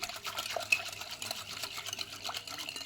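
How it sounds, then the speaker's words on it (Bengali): Sugar and milk mixture being stirred in a bowl for an eggless sponge cake, giving soft liquid swishes and light clinks, fairly quiet and close with no talking. "দিয়ে এবার খুব ভালো করে চিনি আর দুধের মিশ্রণটাকে মিশিয়ে নিচ্ছি"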